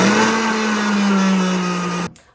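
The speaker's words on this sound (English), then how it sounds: "So I'm gonna turn on the blender, let this run for about 30 seconds to really whip up the egg" Kitchen blender running steadily at high speed, whipping egg for a sauce, a loud constant motor whir with a low hum that cuts off abruptly near the end.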